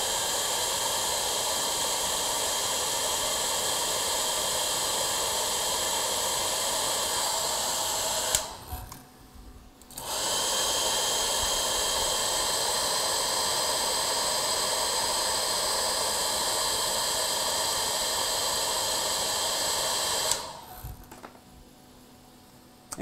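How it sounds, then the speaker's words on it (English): Hairdryer blowing hard to melt ice buildup on a subzero-cooled overclocking rig, a steady close whooshing roar that cuts out briefly twice. "I'm gonna hit it with the hairdryer to get the ice buildup inside"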